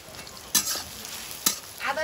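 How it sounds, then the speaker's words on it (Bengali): Bay leaf, onion and whole garam masala frying in oil in a home kitchen, a steady sizzle with two sharp bursts of stirring or spattering, loud and close, no talk. "তেলের মধ্যে দেবো একটু তেজপাতা, পেঁয়াজ কষা, একটু গোটা গরম মশলা"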